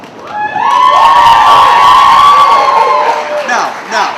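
An audience at the Amnesty International St. Louis Slamming for Humanity poetry slam erupts in loud cheering, whoops and shouts that swell for several seconds and then fade.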